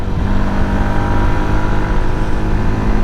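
A Yamaha MT-125 motorbike engine runs with a steady, loud, continuous drone and no voices.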